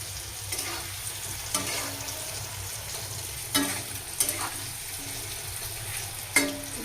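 Curry frying in a pan in a home kitchen gives a soft, continuous sizzle, broken by a few brief clatters of stirring, with no voices.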